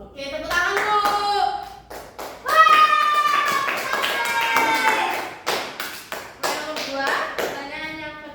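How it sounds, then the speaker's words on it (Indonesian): A classroom claps together during a group lesson. Bursts of hand clapping and taps mix with children's voices chanting or singing in tones, loud and close, with the clapping running through the whole passage. "Oke, tepuk tangan dulu."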